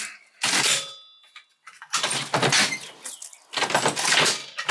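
The worn doors of an old bus clang and rattle open and shut in several loud, close bursts separated by brief pauses, with no talking.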